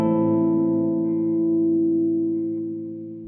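A Bulinski Analog Spring Driver pedal with its dry signal boosted rings out a sustained guitar chord through a real spring reverb, steady and bright before it gradually fades.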